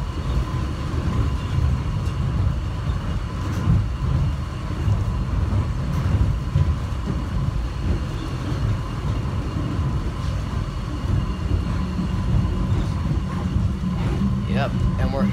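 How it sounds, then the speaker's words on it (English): A subway train on an airport line running toward Terminal A passes on the track with a steady, heavy low rumble and rattle that stays loud throughout, while voices murmur faintly beneath it. "There's the other train."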